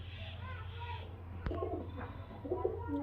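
Low, soft coos of high-flyer Giribaz pigeons sit under a steady hum, with a sharp tap midway and faint background voices.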